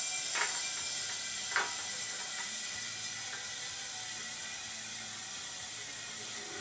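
Propane hisses steadily while a one pound bottle is refilled, a constant close rushing flow that fades slightly over time, with a few faint clicks near the start.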